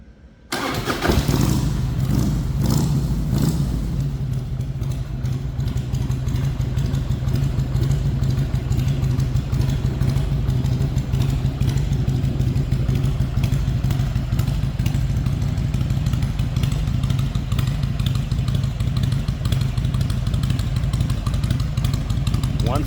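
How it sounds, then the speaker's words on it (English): A 1999 Harley-Davidson Heritage Springer motorcycle fires up and settles into a steady, loud, close idle with a deep, continuous rumble that runs without break, and no one talks over it. "I absolutely love the sound of this bike. All right, so let's fire it up."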